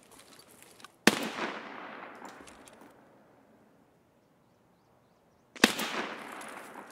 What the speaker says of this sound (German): Hier unten wird irgendwo geschossen.